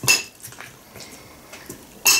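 A fork clinks against a dish of fruit salad with grapes, apple, pear, mandarin, orange, banana and kiwi, giving a sharp clink at the start and another at the end, with faint soft scrapes between.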